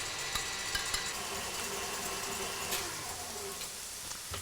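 Red onion, celery and bacon fry in olive oil in a pan, giving a steady, even sizzle with faint crackles and a few small clinks throughout, no voices.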